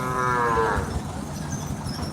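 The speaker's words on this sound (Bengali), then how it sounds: "এই যে আমার সামনে দেখছেন গরু দিতে রাখা আছে" A single loud cow moo close by, lasting under a second, then fading into a quiet outdoor background at a morning cattle market in Ambari, Dinajpur.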